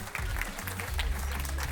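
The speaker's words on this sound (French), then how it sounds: "On peut leur donner une bonne main d'applaudissements." Audience applauding after an improv show, a short burst of dense clapping from a crowd filling the room, steady and moderately loud with low murmurs beneath.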